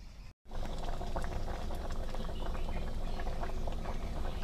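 A pot of bamboo shoot curry with giant water bugs bubbling on a fire, a steady close boil after a brief dropout at the start.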